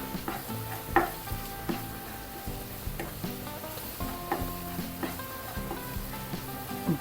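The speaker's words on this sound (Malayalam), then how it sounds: "കുറച്ച് വെള്ളം ഒഴിച്ചു കൊടുക്കേ." Water splashed into sizzling okra masala in a pan, a soft steady hiss broken by regular clinks and scrapes of a spoon stirring.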